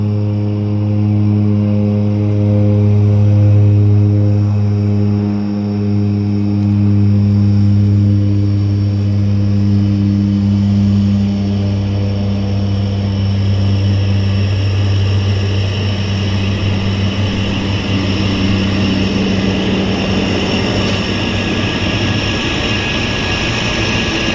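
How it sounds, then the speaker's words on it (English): A de Havilland Twin Otter floatplane takes off from a float base, its deep, steady turboprop engine drone sustained and fairly loud throughout, with a strong low hum and tonal whine rising slightly over time. "And the Twin Otter, of course, is showtime immediately."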